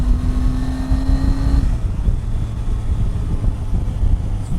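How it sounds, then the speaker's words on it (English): A 2018 Triumph Tiger 800 XRt motorcycle engine rumbles close by while riding, wind buffeting over the low throb, with a rising whine that cuts off partway through. "The engine sounds beautiful."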